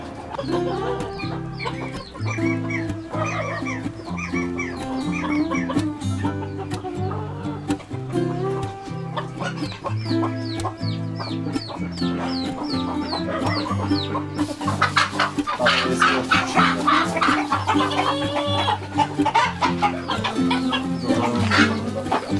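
Chickens placed in a homemade nest box cluck close by in repeated bursts over a steady, rhythmic musical backing, with the clucking growing busier and louder in the latter part.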